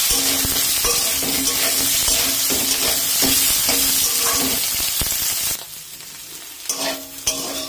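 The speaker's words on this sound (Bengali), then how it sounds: "এখন আমি মেখে রেখেছিলাম সয়াবিন দিয়ে দিলাম। এটা আমি একটু লাল লাল করে ভেজে নেব।" Marinated soybean chunks sizzle loudly in hot oil in a pan, a dense continuous frying hiss with stirring scrapes, easing off to quieter crackles toward the end.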